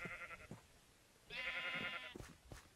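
Sheep in Minecraft give two bleats, one short and one longer and louder, with faint clicks and thuds from gameplay between them.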